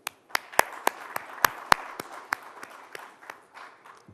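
Sparse, quiet clapping at the India Today Conclave 2021, a few distinct hand claps spaced irregularly over about four seconds in a hushed hall.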